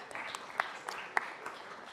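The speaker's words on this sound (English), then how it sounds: "Let's give him a big round of applause." Scattered applause at a city council meeting, thin and fairly quiet, with a few sharper individual claps standing out over a low room murmur.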